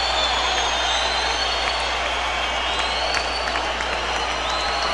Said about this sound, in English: The crowd is ecstatic